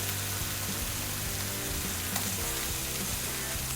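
Blackened Cajun-style catfish fries in a hot pan with a loud, dense, continuous crackling sizzle like heavy rain, close and steady throughout, with no speech.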